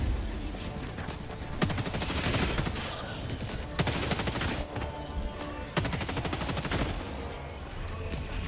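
Sentry turret gunfire in a shooter video game: sustained rapid bursts of automatic shots, loud and dense, rolling on almost without pause amid other battle noise.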